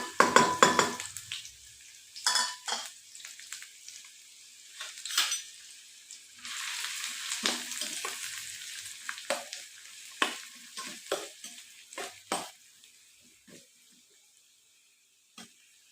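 A large onion and three or four green chillies fry in oil while being stirred, giving sharp bursts of sizzling and scraping broken by quiet gaps, then fading toward the end.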